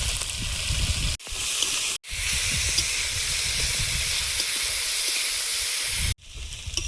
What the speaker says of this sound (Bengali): পেঁয়াজ, কাঁচা লঙ্কা, আলু একসঙ্গে একটু ভেজে নিয়েছি, হাফ ভাজা হয়েছে।